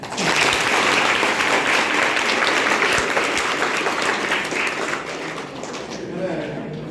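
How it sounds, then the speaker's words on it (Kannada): A large live audience at a stage comedy show breaks into loud, sustained applause, dense clapping carrying steadily for several seconds before easing slightly toward the end, with no voices over it. "ಸ್ವಲ್ಪ ಗಟ್ಟಿಯಾಗಿ ನಿಂತ್ಕೊಳ್ಳೋಕೆ ಒಂದು ದೊಡ್ಡದಾದ ಚಪ್ಪಾಳೆ ಬೇಕು ನನಗೆ."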